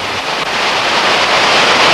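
Mountain waterfalls and torrents cascade down slopes in a steady, loud, broad roar of rushing water, continuous and without any voices.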